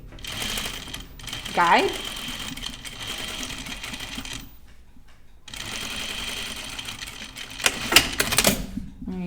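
Sewing machine with a zipper foot stitching a zipper pouch: rapid mechanical clattering bursts of stitching, stopping and starting, with a voice speaking briefly.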